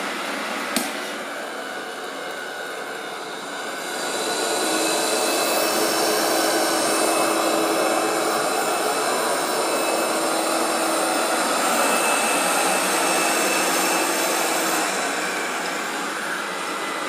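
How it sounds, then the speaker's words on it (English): An Ultenic D5S Pro robot vacuum whirs steadily, then on detecting carpet its motor ramps up to a louder, higher-pitched 3000 Pa suction roar that holds for several seconds before easing slightly. "The robot vacuum cleaner automatically increases suction power to 3000 Pascal"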